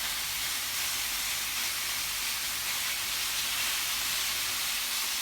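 Tiger prawns sizzle in a hot pan while cooking for satay, a steady, even hiss of frying that holds throughout without pause.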